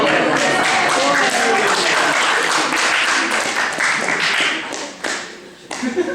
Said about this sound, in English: Because you got an applaud for that.